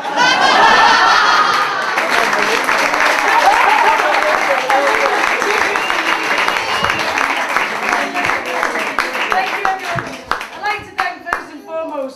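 Crowd at an outdoor pavement art competition claps steadily and loudly for several seconds, with voices and light laughter mixed in, before the applause thins into scattered claps and talk.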